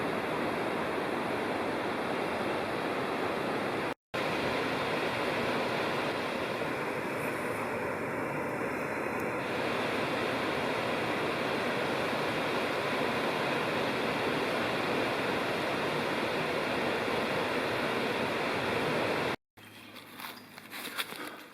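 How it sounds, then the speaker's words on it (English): A river flows below a hiking trail at Big South Fork in Tennessee, heard as a steady, broad rushing wash from a distance, with no talk over it and a brief cut near the end. "A few birds, the river when I'm down close to it, and now I'm way above it"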